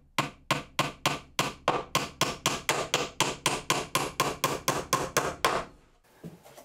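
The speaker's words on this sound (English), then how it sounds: "I'm going to get a couple more nails along the front just to lock this in place." A hammer drives nails into a pallet wood shelf, about twenty sharp, evenly spaced strikes landing in quick succession, loud and close with no talking.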